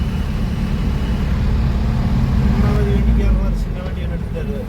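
Continuous low rumble of road traffic on the Coimbatore outer bypass road, vehicles droning past nearby, under a voice talking.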